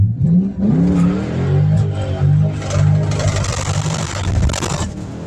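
A Ford Mustang GT accelerates hard on an empty valley road during a wheel-hop test, its loud engine note rising and surging steadily for several seconds with no voices.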